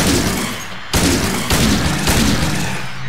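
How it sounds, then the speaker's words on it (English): Gunfire from the player's gun in the Silent Hill 2 video game: four loud, close blasts in quick succession, each one sharp and booming, spaced about half a second apart with no talking between them. "Remember when I said I wasn't gonna use my gun and then I began using my gun?"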